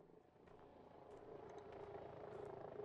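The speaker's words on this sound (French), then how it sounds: "Un hélicoptère." Faint, distant helicopter rotor drone in the survival video game SURVIVE, a low steady chop that slowly grows a little louder as it approaches.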